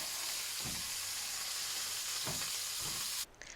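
Beef sears in olive oil in a very hot pan, a steady loud sizzle with a few brief bursts as the meat is moved, cutting off abruptly near the end.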